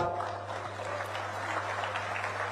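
An outdoor crowd at an International Yoga Day event in Gairsain claps together in a continuous, fairly faint patter for a couple of seconds. A steady electrical hum from the sound system sits underneath.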